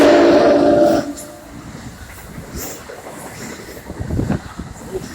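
A train on the North East Corridor line rumbles past, with a loud tonal horn-like blast at the start that cuts off, then lower rolling rail noise and clatter continuing at moderate volume.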